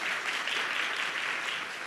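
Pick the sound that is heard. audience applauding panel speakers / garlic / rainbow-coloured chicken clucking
audience applauding panel speakers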